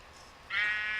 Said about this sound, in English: Sheeps.